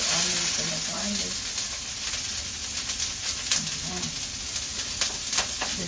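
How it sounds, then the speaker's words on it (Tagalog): Onions and garlic fry in a heated pan for carbonara, giving a steady close hiss and sizzle with faint crackles and soft stirring, while a voice murmurs faintly beneath. "I heated the pan. The onions and the garlic."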